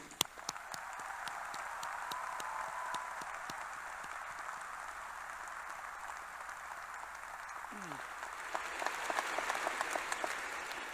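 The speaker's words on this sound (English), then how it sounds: "Please join me in a special round of applause for those people and their families." A large crowd at a graduation ceremony gives sustained applause for first generation college graduates and their families, steady clapping with distinct sharp claps near the start and a brief voice partway through.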